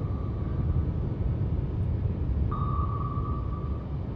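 Sonar contact in the Cold Waters submarine game, with the aircraft carrier Nimitz running at 28 knots: a steady wash of low rumbling noise with a thin tone held across it that brightens midway, continuous and fairly loud.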